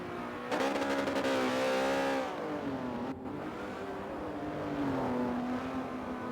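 A race car in the Swarts Exotic GT series on track in a racing game, engine droning loudly and steadily with pitch rising and falling through shifts and corners, no talk over it.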